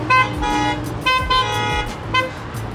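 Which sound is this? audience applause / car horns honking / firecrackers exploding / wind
car horns honking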